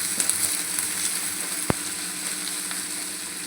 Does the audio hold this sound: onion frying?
yes